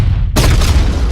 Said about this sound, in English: Did I mention the big explosion?